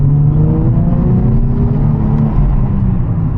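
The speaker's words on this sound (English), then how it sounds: "I love the sound of this car." A modded Nissan 350Z engine hums and revs close by while driving in London at night, a steady low rumble with rising and falling pitch throughout.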